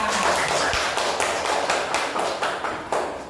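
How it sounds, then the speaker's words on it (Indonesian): Students clapping together in an Indonesian classroom, a steady run of hand claps close by with little talk over it. "Tepuk tangan untuk kita semua"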